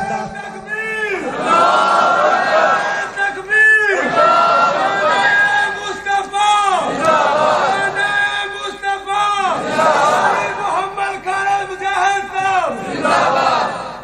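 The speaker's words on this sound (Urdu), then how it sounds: "یہ تو نعرے بھی چنگے لا لیندہ ہے" A crowd at a religious gathering chants slogans in loud repeated call-and-response bursts, voices rising and falling together in a rhythmic roar that fills the space.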